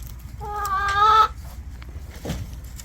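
A farm chicken clucks close by, a single drawn-out call over low outdoor background noise.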